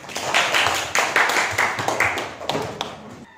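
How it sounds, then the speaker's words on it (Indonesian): A classroom of students applauding a classmate: a short burst of brisk, dense clapping from several people nearby, slightly uneven in rhythm and tapering off after a few seconds. "Aplaus untuk Ica."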